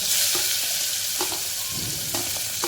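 Tempering of asafoetida and slit green chillies in hot oil hisses and crackles continuously, with a few sharp pops and the scrape of stirring, fairly close.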